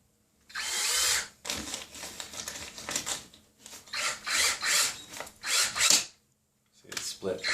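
A power drill drives a screw into drywall during a fast patch over a missing stud, sinking the screw head below the surface. Several close, loud bursts of whirring and grinding come in short runs with brief pauses between them.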